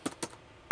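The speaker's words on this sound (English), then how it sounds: "Nice big chunky key popper. Nice chunky keyboard." Three separate key presses on the chunky keyboard of a Sharp PC-RD3D 3D-display laptop, close and crisp, two quick clacks followed by a third after a short pause.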